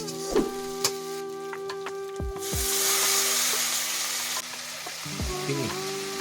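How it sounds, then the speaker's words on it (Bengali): Ground spice paste and turmeric fry in hot oil for a katla fish dish, a close sizzle that swells into a loud hiss partway through, with scattered clinks of utensils. "এবার বাটা মশলাগুলো গরম তেলে দিয়ে সঙ্গে হলুদ দিয়ে এগুলো কষানো হচ্ছে।"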